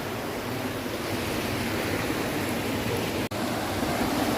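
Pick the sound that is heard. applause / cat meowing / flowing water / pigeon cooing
flowing water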